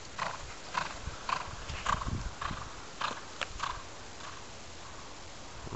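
A horse moves across long grass on a cross-country course, its hooves making a regular clip-clop rhythm of soft, fairly close thuds, heard alone without voices.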